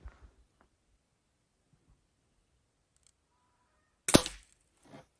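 A single sharp air rifle pellet shot on a 10-metre range, one loud crack near the end after quiet with small clicks, followed by a faint softer report.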